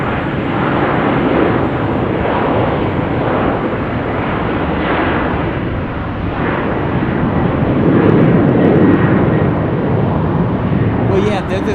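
Southwest Airlines airplane engines produce a loud, sustained roar with slow swells in intensity. The sound fills the whole stretch without letup and could be a jet taking off or passing close by.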